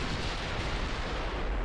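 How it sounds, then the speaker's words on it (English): A heavy shell hit from a 12-inch battleship gun in a naval war game lands as a dense, roaring broadband blast that fills the whole moment with rumbling, explosive noise and no voices. "Just took a hit from a 12-inch gun."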